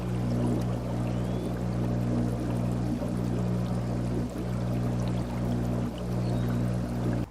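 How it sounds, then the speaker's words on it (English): A commercial air pump bubbles steadily in a container of tap water, a continuous churning, gurgling burble with a low electric hum beneath, close and constant throughout with no talking. "Here's the commercial air pump I'm using."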